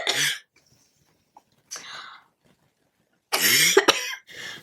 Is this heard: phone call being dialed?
no